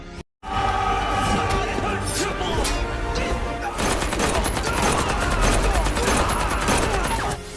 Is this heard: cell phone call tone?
no